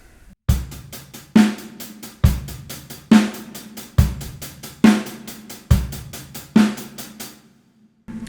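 Drum kit groove with a steady 16th-note closed hi-hat pattern and a snare backbeat on two and four, kick drum underneath, crisp and close, played alone with no talk for about eight seconds.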